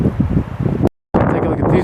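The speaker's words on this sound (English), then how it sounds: "I'm working our way over the power lines, and that wind is picking up." Strong gusting wind outdoors near power lines in the New Jersey pine barrens, buffeting loudly across the microphone with a brief dropout midway.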